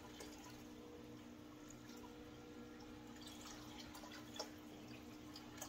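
Water from an aquarium gravel cleaner siphon trickles and splashes faintly out of the hose, with a few soft drips, close but very quiet.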